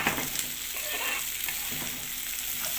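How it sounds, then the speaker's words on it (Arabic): Rice and vermicelli sauté together in a pot, a dense, continuous close sizzle with soft stirring scrapes rising and falling throughout, no voices over it. "ونشوح الرز شويه كده مع بعضنا"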